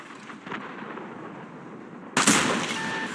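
A single heavy tank cannon shot in World of Tanks booms loud and close, cutting in sharply after a stretch of low engine rumble and fading into a lingering echo.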